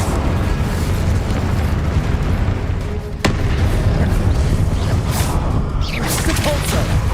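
An Incendio fire spell in Hogwarts Legacy roars out as a loud, continuous rumbling blast of flame with whooshing bursts and a sharp crack midway, amid dense game combat noise.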